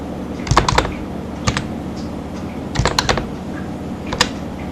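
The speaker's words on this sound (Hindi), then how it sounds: "अब इसमें हम कुछ भी टाइप कर देते हैं" Quick bursts of clicky keystrokes on a computer keyboard while entering text in an Excel spreadsheet, in three short clusters separated by brief pauses, close and fairly loud with no talking.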